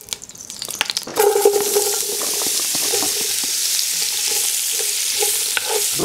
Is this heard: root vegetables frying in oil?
yes